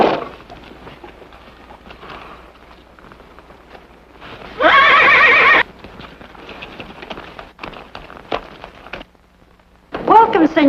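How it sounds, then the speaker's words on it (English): Horses at a frontier Western town stable and corral give a loud, sharp whinny midway, with scattered hoof clip-clops around it and a second neigh-like burst near the end, over faint background noise. "Where can I stable my horses?"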